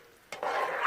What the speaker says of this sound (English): as you can see, I'm stirring it around